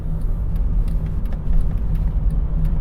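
A car rolls around a roundabout in third gear at about 20 miles an hour, its engine and road noise a steady low rumble heard from inside the cabin.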